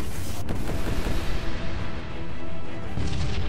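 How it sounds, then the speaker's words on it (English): A spaceship cannon fires in the space combat game Sunrider: Mask of Arcadius, a loud booming blast that rolls into a rumbling, crackling decay and then swells again briefly, with no talking. "Firing cannon."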